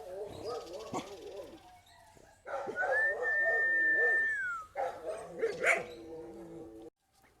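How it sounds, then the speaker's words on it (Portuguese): Dogs barking and whimpering close by, with a person talking over and between the yelps. "os cachorros estão mais calmos, estão aqui do meu lado aqui agora, tentando acalmá-los, parar com esse latido"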